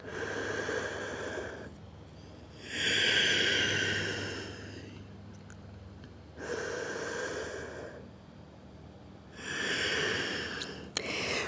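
Slow, deep breaths taken in a yoga child's pose; three long, audible exhale-like rushes of air, close and fairly quiet, separated by pauses of near silence.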